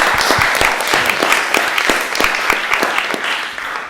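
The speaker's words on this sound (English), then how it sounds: "Can we have a little warm golf applause for them?" Polite golf-style applause from an audience at a debate, a warm steady patter of many hands with a few distinct individual claps, fading slightly toward the end of a few seconds.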